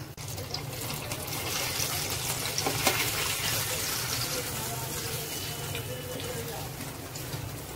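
Mozzarella cheese sticks frying in a little warm oil in a pan, two pieces at a time, give a steady, fairly loud crackling sizzle that runs without a break, with a low hum underneath.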